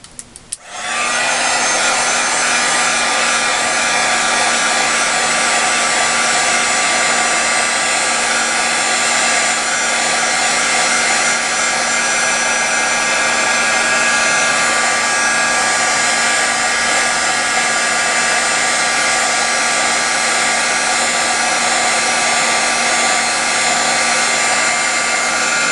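Heat tool blasting hot air to dry a handmade card: after a faint click it roars into a loud, steady, close whirring hiss that runs unbroken for over twenty seconds, with no talking.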